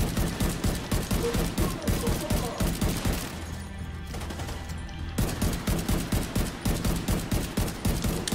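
Rapid bursts of gunfire in The Division 2, dense rattling shots repeating in quick volleys, pausing briefly in the middle before resuming just as fast.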